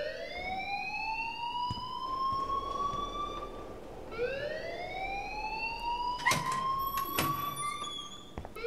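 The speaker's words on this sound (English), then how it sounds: "please turn off that alarm since that's your job" A school alarm in the video game Life is Strange wails as rising, siren-like sweeping tones that repeat in long cycles, steady and fairly loud with some clanks near the end, and no talk.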